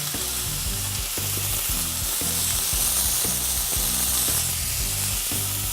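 Chopped garlic fries in a hot pan with dense, loud, continuous sizzling and crackling, while a utensil knocks and scrapes against the pan in a steady rhythm underneath.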